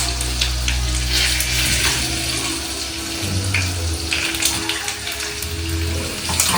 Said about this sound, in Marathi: लसूण पण मस्त फ्राय झालेला आहे